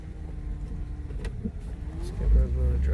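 A 2010 Chevrolet Traverse with old, somewhat flat tires rolls slowly, its engine a low, steady hum that swells slightly near the end while a person talks.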